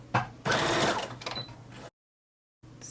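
A domestic sewing machine stitches a small fabric Christmas ornament in short, loud mechanical whirring bursts. A pause of silence falls before the motor starts up again.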